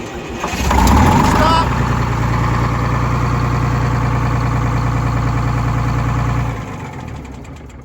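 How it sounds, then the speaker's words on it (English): A bus engine with a supercharger blower cranks and catches, then runs loud and rough in a steady, throbbing roar before cutting off near the end. "So I want to start it here and rev it up and make sure the blower lobes are spinning the same pace as the RPM"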